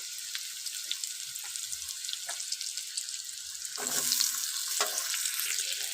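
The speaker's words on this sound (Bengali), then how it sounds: "তো আলুগুলো দিয়ে খুব ভালোভাবে কিন্তু একটু ভেজে নেব।" Thinly sliced potatoes with reddened onions fry in a pan with a bright, hissing sizzle that swells louder partway through, heard alone without talk.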